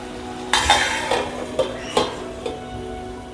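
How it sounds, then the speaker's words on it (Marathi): Dough for paneer rolls is mixed in a bowl, with about five sharp clinks and scrapes of a utensil against the bowl, close and distinct over a quiet background. "चांगलं मिक्स करून घ्यायचं"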